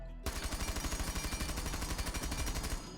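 A Rainbow Six Siege rifle fitted with a compensator fires a sustained full-auto burst, rapid evenly spaced shots that start abruptly and run loud and steady for nearly three seconds with no speech.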